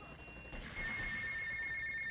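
A steady electronic telephone ring in GTA Vice City sounds over a constant background hum, continuing without pause.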